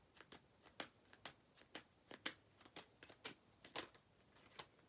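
Tarot cards being shuffled by hand, a fast series of crisp riffling slaps and flicks, close and fairly quiet, with no voice over them.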